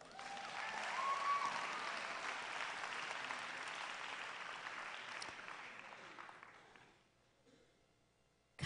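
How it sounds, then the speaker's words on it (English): An audience at a church service claps hands in a sustained, moderately distant wash of applause that holds steady for about seven seconds before fading out. "Clap your hands."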